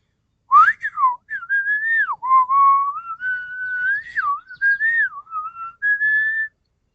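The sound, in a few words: person whistling to imitate and call birds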